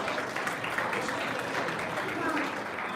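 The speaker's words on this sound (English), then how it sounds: "Come on, give him a round of applause." Audience applause at a hospital fundraising gala dinner, a steady, dense wash of clapping that holds evenly for about three seconds with faint voices mixed in.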